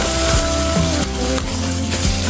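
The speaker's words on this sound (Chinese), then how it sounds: "顺着一个方向一直给它搅" Dumpling filling being stirred steadily in one direction in a bowl as Sichuan pepper water is added, a continuous close, loud wet churning with faint scraping.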